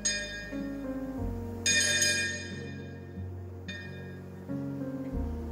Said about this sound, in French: Les tam-tams royaux à double gong résonnent dans la salle.